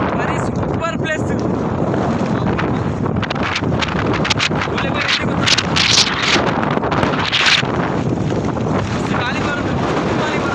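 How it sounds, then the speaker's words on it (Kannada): Strong wind gusts on an open hilltop at Patla Hill near Bisle Ghat, blasting the microphone with a loud, continuous roar and rumble that surges and buffets throughout. "ಗಾಳಿ ಬರುತ್ತೆ"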